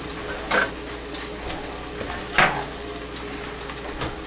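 Chili colorado sizzling in sauce in a pan, a steady close frying hiss with a few louder scraping stirs breaking through, no talking.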